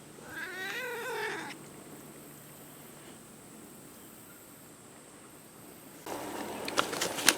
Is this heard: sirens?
no